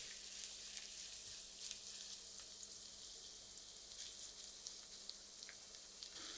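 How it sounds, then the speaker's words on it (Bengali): Chopped onion frying in two spoonfuls of mustard oil in a pan for a pumpkin and shrimp curry, a quiet, steady sizzle with faint crackles and occasional light stirring, no voices. "পেঁয়াজটাকে আমি একটু ভেজে নিব।"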